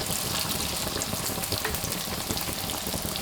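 Youtiao dough fries in hot oil while being turned, a loud, continuous crackling sizzle with no voices.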